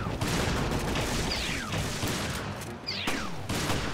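Gunfire in the video game Resident Evil: Revelations: dense, continuous shots crackle through the whole stretch with a few sharper bursts standing out, loud and close amid busy game noise.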